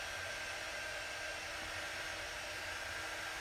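A quick-dry heat tool blowing hot air over chalk transfer letters, a steady faint whirring rush that stays even from start to finish, with no talk.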